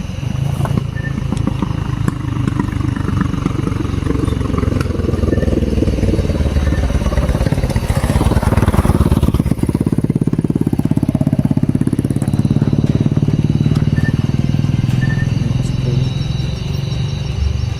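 A motorcycle engine runs steadily and close by for the whole stretch, a continuous low rumble at night in a dark outdoor setting, with no talking over it.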